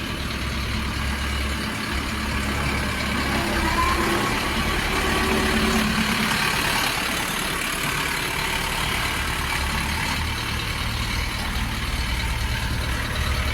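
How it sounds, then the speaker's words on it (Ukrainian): A Bulat 504 tractor engine idles steadily, a low rumbling chug that holds constant for the whole stretch, fairly close and without anyone speaking. "Ось такий тракторець."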